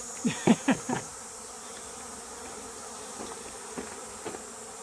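Close bee buzzing around a feeder box in a few quick bursts at the start, then sparse faint buzzes against a steady background hiss.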